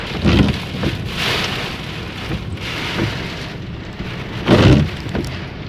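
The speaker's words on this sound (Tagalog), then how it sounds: "Napakalakas ng hangin na parang bagyo talaga to." Heavy rain pours steadily on surfaces during a strong windstorm in Abu Dhabi, UAE, with loud gusty bursts rising and falling and no voices.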